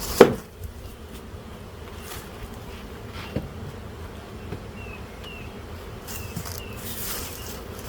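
A honeybee swarm hums steadily at a hive being moved, a dense close buzz with a few sharp knocks and thuds from handling the hive and comb.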